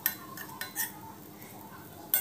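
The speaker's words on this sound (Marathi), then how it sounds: "आता यामध्येच आपण बदाम पिस्ता वाटून घेतलेले ते पण यामध्ये चांगलं परतून घेऊया" Ground almonds and pistachios are stir-fried with roasted rice in a pan, with a spoon scraping and clinking against the metal in several short, sharp strokes over a quiet background.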